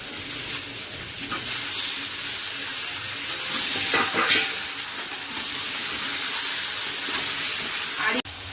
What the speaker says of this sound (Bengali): এখন আলু দিয়ে ভাজবো আর মাংস দিয়ে দেবো